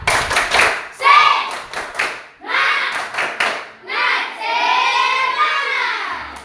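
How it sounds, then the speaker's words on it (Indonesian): A classroom group performs the tepuk semangat rhythmic clapping chant, sharp bursts of hand claps in patterned beats alternating with voices chanting together, loud and close. "Kita tepuk semangat dulu, bisa?"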